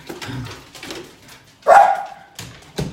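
Dogs bark close by indoors: one loud bark stands out, followed by a shorter yelp, among softer earlier sounds.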